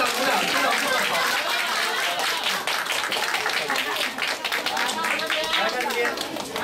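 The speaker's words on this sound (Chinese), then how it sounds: "鼓掌鼓掌" Audience applauding a teacher at a science center award ceremony, dense steady clapping from a crowd under a voice talking over it.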